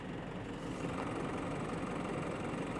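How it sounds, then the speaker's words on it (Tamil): The engine of an SML Aasai 12+1 seat air-conditioned maxicab van idles in a steady, dense, low rumble, close and continuous, with no voices. "இப்போ நார்மலான ஒரு இன்ஜின் சவுண்டு உங்களுக்கு கேட்கும்னு நினைக்கிறேன்"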